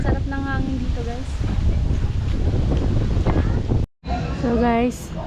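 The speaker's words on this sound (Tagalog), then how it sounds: "ang sarap ng hangin dito" Outdoor wind buffets the microphone, a steady broadband rumble that runs loud through most of the clip and cuts out briefly near the end, while a voice talks over it.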